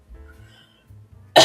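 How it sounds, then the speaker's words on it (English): A person with a lingering cold gives a single sharp, loud cough near the end, after a stretch of near silence with only a faint low rumble. "I still have a cough."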